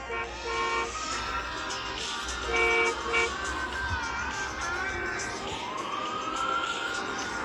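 Taxi horn honks in Hamburg traffic, a few short toots stacked over a busy street with a siren wail rising near the end, moderately loud with no talk.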